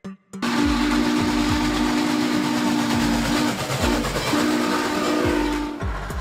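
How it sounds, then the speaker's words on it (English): A steam locomotive sounds a long, loud, steady steam whistle while its exhaust chuffs in a regular rhythm underneath, nearby and dominant, ending abruptly, with no talk. "Steam locomotive"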